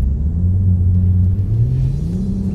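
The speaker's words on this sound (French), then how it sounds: "Vous voyez que la sonorité a changé, le temps de latence du turbo il s'est réduit" A Mercedes E400 Coupé AMG Line engine in sport mode rumbles loudly at close range, its turbocharged pitch climbing steadily as it revs up.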